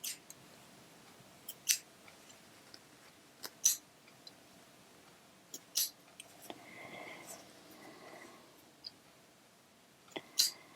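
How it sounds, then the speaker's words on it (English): Scissors trim sewing threads on a small shelf-liner gripper, giving about half a dozen short, crisp snips spaced a second or two apart, close-up in a quiet room. "Gonna trim my threads."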